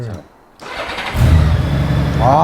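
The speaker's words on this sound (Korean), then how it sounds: "자 시동 한번 걸어보겠습니다 예. 시동 가면 조용합니다." A Honda Gold Wing F6B motorcycle is started: a short quiet pause, then the starter turns over and the engine catches into a smooth, steady, fairly quiet idle, with a voice heard near the end.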